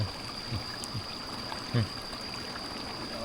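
Water flows steadily through a flooded rice field, a constant close rushing wash with a few soft splashes and thumps on top of it.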